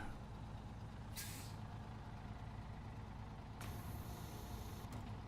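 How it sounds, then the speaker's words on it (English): Two sharp hissing bursts of air come from a truck's parking brake in the video game SnowRunner, heard over a low idling engine rumble, the second burst longer and followed by a brief puff. "Okay, parking brakes on."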